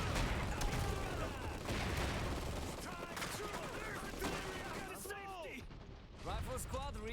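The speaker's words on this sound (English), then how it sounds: "Artillery fire!" Artillery and gunfire rumble through a battle in the real-time strategy game Iron Harvest, with dense repeated blasts and crackling shots over whooshing effects, while a voice talks over the fighting.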